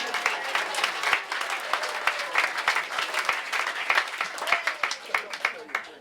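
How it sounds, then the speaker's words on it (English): An audience at an outdoor political big-tent event gives a sustained round of applause, dense clapping at moderate distance that stays steady throughout with no voice over it. "look at your neighbors and give them a round of applause"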